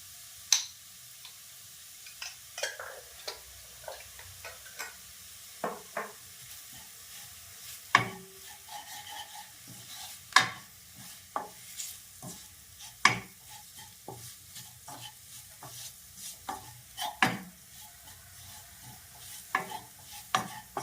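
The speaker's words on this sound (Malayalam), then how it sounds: "ലോ ഫ്ലെയിമിലിട്ടാണ് നമ്മൾ ഈ പൊടികൾ വഴറ്റിയെടുക്കുന്നത്" Spice powders for an eggplant curry being sautéed over a low flame, with repeated scraping stirs and clicks of a spoon against the pan over a faint, steady sizzle, close and without talk.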